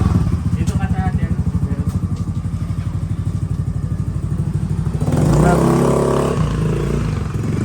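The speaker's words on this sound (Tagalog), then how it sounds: "Gagamitin na din po ni Lugs yung motor" A motorcycle engine runs with a steady low pulsing putter, then revs up louder as it pulls away near the end, on a street by a market in Pamplona, with voices in the background.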